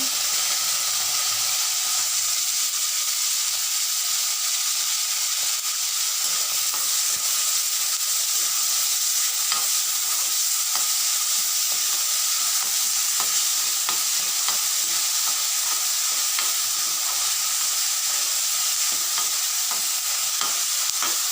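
Onions and tomatoes fry in hot oil with popped mustard seeds for a quick sambar, a loud, continuous sizzle and hiss close up, broken by the frequent scrape and clatter of stirring, with no talk.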